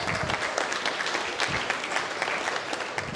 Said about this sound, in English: Give them a round of applause, both.